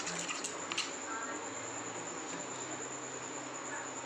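Paneer pakoras fry in hot oil with a steady, dense hissing sizzle, a few sharper crackles near the start, and faint talk in the background.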